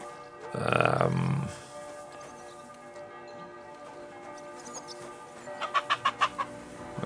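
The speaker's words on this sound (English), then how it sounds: "Okay, let's ignore the chickens." Chickens clucking in the medieval video game Kingdom Come Deliverance 2, a loud squawk up close followed by a run of short rhythmic clucks over a steady ambient hum.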